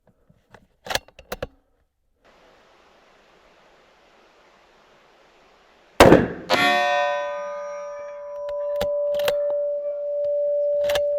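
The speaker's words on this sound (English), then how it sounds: "This is a 308, shooting Federal." A .308 rifle firing Federal ammunition gives one sharp, loud crack, and steel rings clearly on impact for several seconds afterward. Soft handling clicks come before the shot.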